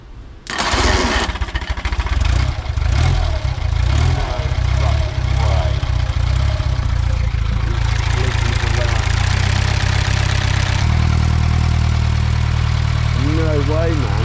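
A small engine fitted with a new exhaust fires up with a burst and settles into a loud, steady chugging run close by, with people talking over it.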